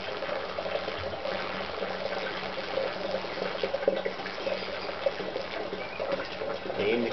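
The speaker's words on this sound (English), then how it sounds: "The indicator should be moving up and down as the water level builds up in the tank" Water pours steadily into a tank, a continuous rushing, splashing flow with no pauses, heard close and at moderate loudness.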